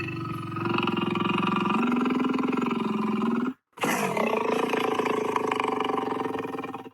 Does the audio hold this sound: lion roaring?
yes